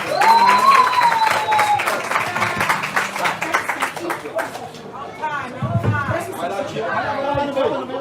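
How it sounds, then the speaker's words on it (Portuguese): Applause for Dona Adria at a community gathering in a favela space in Ribeirão Preto, a dense crowd clapping with chatter and cheering throughout, loud and steady, with voices talking over it toward the end. "Palmas para a Dona Adria, gente, por gentileza."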